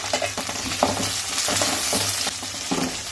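Gravy with curry leaves and green chilies fries in a pan for fish curry, a dense close sizzle with brief stirring scrapes and soft clinks throughout, no voices.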